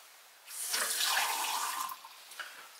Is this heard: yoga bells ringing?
no